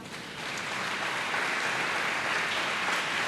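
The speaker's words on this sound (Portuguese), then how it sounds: "Vamos aplaudir ao Rei." A church congregation applauding during a worship congress, a steady dense wash of clapping that swells in over the first half second and holds evenly, moderately distant.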